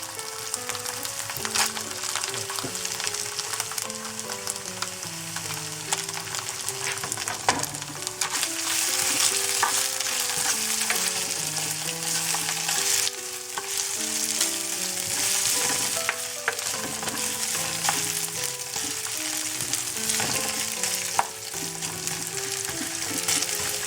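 Carrots sizzling and frying in a pan for veg masala Maggi noodles, a steady close crackle running throughout while a melodic tune plays over it.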